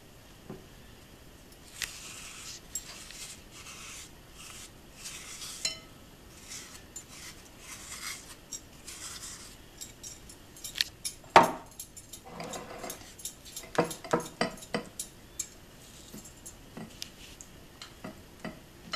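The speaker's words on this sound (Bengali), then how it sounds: "আমি এখন এই জিনিসটা দইয়ের মধ্যে ভালো করে মিলিয়ে দেব।" Chopped coriander stirred into spicy yoghurt in a bowl, a spoon scraping and clinking against the bowl in uneven bursts, faint and close, busier and louder in the second half.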